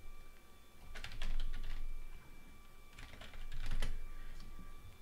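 Typing on a computer keyboard, two short bursts of close key taps separated by a pause, over a steady electronic hum.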